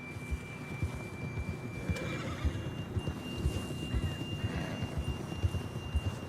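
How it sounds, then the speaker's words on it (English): A horse in Red Dead Redemption 2 whinnies over a steady clip-clop of hooves trotting at an even rhythm, with a faint hum underneath. "John was riding that horse when we left Blackwater"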